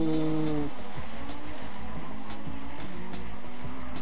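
Drag race car at an NDRA event in Richmond, Virginia, doing a burnout, with a steady engine roar and the rasp of spinning tires at close range that ends in a brief squealing tone, with no talk over it.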